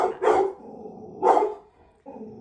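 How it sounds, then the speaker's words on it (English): A dog barks twice in loud, close bursts about a second apart, with a softer yip or whine trailing between and after, indoors with no talk. "Sorry, my dog."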